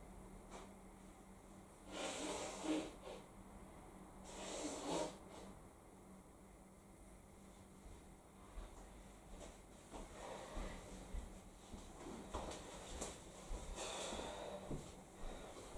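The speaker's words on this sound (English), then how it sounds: "I have to blow my nose again." A person blows their nose indoors, producing several loud, breathy snorting bursts with pauses between them and quieter sniffling and rustling afterward, with no talk.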